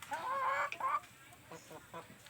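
Laying hens on a small self-sufficient Thai farm cluck and squawk close by, with a loud burst of calls at the start followed by softer clucks, while someone talks nearby.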